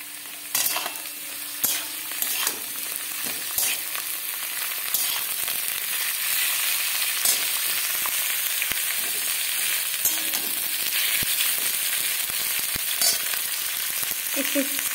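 Capsicum and bell pepper frying with carrots and beans for veg chowmein, a steady hiss of sizzling oil with intermittent scraping stir strokes from a spatula, fairly loud and close, with no talking.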